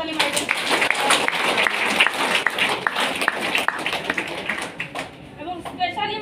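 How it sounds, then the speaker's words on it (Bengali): An audience claps for an honoree at a rank-completion ceremony, a dense patter of hand claps mixed with someone speaking over it, the applause thinning out toward the end. "রুহিনা পারভিন ম্যাডামের জন্য একটা জোরালো করতালি"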